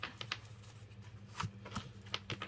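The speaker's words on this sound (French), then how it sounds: "Je vais gommer tous mes traits." A rubber eraser rubs briskly over pencil lines on paper for a card, making close, soft, rhythmic scrubbing strokes in short bursts, with no talking.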